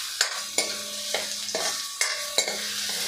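Finely chopped onions sautéed until soft, a spatula scraping and tossing them in a pan in about six regular strokes over a constant close frying sizzle.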